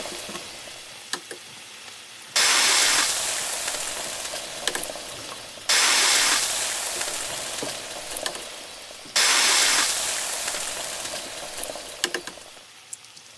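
Eggs sizzling in melted butter in a pan, a loud steady fry that starts up sharply three times as each egg is added, with small pops and crackles throughout.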